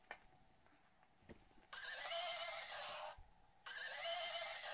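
A horse neighs twice in long, bright whinnies, close and fairly loud, separated by a short pause, with quiet background otherwise and no talking.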